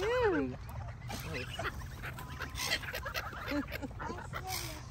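Ducks at Furzton Lake in Milton Keynes quack and honk in a busy flock, calls scattered through the clip over steady low outdoor rumble, with people chatting nearby.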